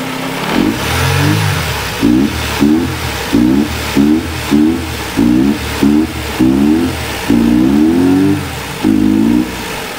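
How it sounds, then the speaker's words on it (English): A Mercedes 190E with a rough-running fault runs on four cylinders close by, blipped through about a dozen short, sharp revs that rise and fall over a steady, slightly uneven idle. "It's running. And it's running on 4 cylinders."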